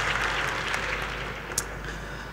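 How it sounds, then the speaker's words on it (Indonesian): Applause from an audience at a corporate public expose event for the DOS team, a steady wash of clapping filling the room throughout at moderate loudness. "Tepuk tangan buat tim DOS, luar biasa."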